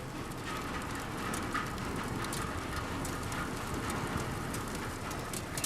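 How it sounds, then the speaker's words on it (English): Steady rain falls outdoors, a constant broadband hiss with scattered drip-like ticks, heard from indoors beside a fireplace being set up, with no talking. "If you listen, you can hear it's raining outside."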